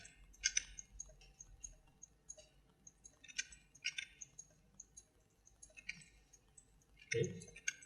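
Computer mouse clicking while selecting in Maya polygon modeling software, quiet crisp clicks in small clusters spread across the clip, close and faint, with a brief low thump near the end.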